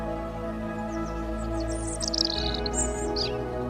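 A small cartoon bird chirps in a few quick, bright tweets in the second half, over a steady background music bed with no voices.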